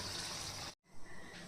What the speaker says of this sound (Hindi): तो हम इसमें ग्रेवी के अकॉर्डिंग पानी डाल देंगे।